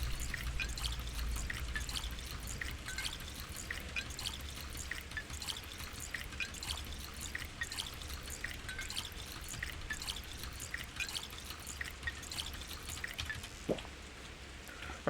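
Water being drawn in Pathologic 2, a quiet, steady stream of dripping and pouring over a low hum, continuous for several seconds with no talk.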